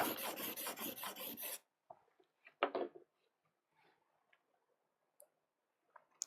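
A printmaking carving tool has its back flattened on a sharpening stone, giving a steady, close rasping scrub for about a second and a half, then a few scattered light scrapes and taps with quiet gaps between.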